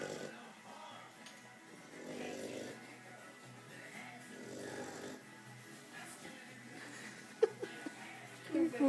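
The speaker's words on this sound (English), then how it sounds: "He's snoring loud." A four-month-old Old English Bulldog puppy snores in slow, regular rumbling breaths, close and moderately loud, with a few sharp sounds and soft voices near the end.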